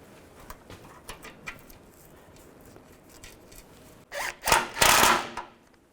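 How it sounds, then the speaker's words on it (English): Screws are tightened while a radiator is refitted on a 2005-15 Nissan Xterra: faint ticks and taps, then a few short, loud whirring bursts close by near the end, with no talk. "put the screws back in, and tighten them down"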